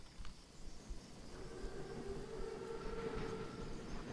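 An armored German Panzerzug rumbles past in the Call of Duty WWII game, a steady low rolling train noise with a faint sustained metallic whine. It sounds fairly distant and stays soft throughout.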